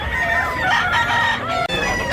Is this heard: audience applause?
no